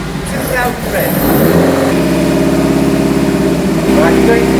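A Pilgrim Sumo AC Cobra replica's engine runs steadily at a held 2,000 rpm, a loud continuous drone with a deeper note settling in partway through, while people talk over it.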